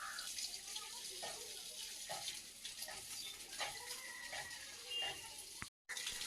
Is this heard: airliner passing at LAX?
no